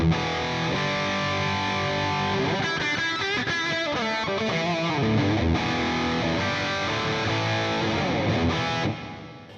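Electric guitar played through a Headrush Gigboard's JC-120 amp model, a clean, sustained chordal passage with bright ringing notes, close and steady, fading out at the end.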